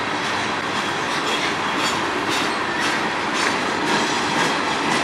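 A train rolls past close by in Sarnia, Ontario: a loud, steady roar of wheels and wagons with faint clickety-clack over the rail joints and some high squeal, running the whole time with no voices.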